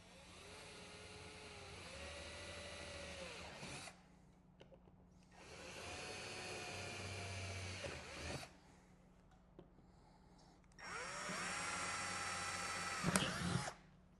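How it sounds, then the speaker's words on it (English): A power drill whirs in three separate bursts as it bores three holes through a lid, each burst running several seconds and rising in pitch, with quiet pauses between them. "There's 3 that we're going to go ahead and drill through on our lid."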